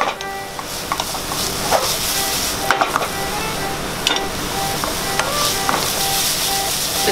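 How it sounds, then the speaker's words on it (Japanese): Minced carrot, onion and garlic frying in a pan, a steady sizzling hiss with occasional scraping stirs from a spatula, close and even throughout, with no speech. "そして一番最初に切ったみじん切りの人参と、玉ねぎ、ニンニク、こちらを炒めていきます。"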